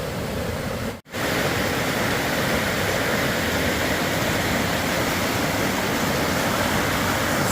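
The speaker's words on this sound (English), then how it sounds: "this is a nice creek here, a nice little riverbed, but after heavy rain" A creek swollen after heavy rain rushes loudly and steadily, a dense broadband roar of water that continues without pause apart from a split-second dropout near the start.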